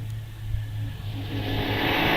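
Supercharged Austin 7 Ulster car at the VSCC Prescott Hill Climb launching off the start line, a low engine drone and whine that swells as it pulls away, heard from nearby.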